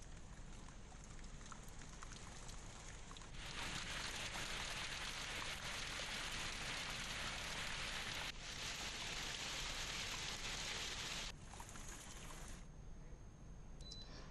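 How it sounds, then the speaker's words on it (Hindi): Heavy downpour with hail in Shamshabad, a dense steady hiss of rain on surfaces throughout, swelling louder midway and easing near the end, with no voices. "शमशाबाद में झमाझम बारिश के साथ ओले की बरसात हुई।"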